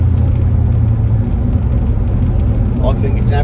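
A 1974 Cadillac Superior hearse on the move, its engine a steady low rumble and road drone heard from inside the cabin, continuous and fairly loud, with a brief voice near the end.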